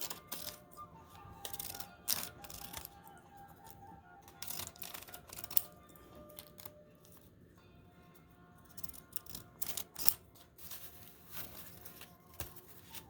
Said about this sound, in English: you take your serrated scissors and then you make confetti